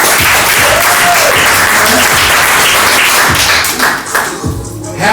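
Loud applause and clapping from a comedy show audience fills the room steadily, with a few thumps, then thins out toward the end.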